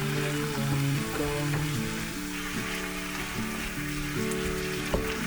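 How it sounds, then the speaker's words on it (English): Ground beef frying in a pan while being stirred, a steady loud sizzle with scraping and clinks of the utensil throughout. "keep stirring the ground beef to ensure it cooks evenly and doesn't burn"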